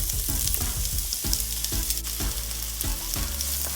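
Onions sizzle loudly in an oiled pan for Jamaican callaloo. A dense, steady frying hiss runs throughout, broken by repeated low knocks and scrapes as the pieces are tossed about. No talking.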